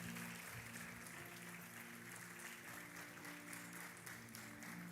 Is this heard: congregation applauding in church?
yes